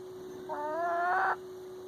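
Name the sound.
Araucana chicken hatchling clucking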